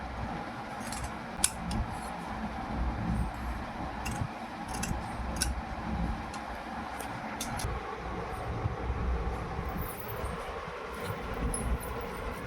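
Tailoring scissors cut through fabric in faint, scattered snips over a quiet, low background hum.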